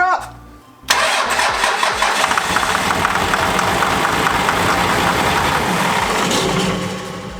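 A Cummins diesel engine cranks briefly, then fires and catches, settling into a loud, steady, clattering run close by, with voices speaking over it.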